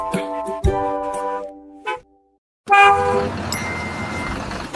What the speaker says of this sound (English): The horn on the bus goes beep, beep, beep.